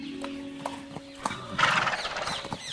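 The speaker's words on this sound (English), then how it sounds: "please take my finest horse with you" Horse hooves clip-clopping in a few spaced, sharp knocks, then a loud, close neigh and whinny rising over them in the final second, part of a children's story telling.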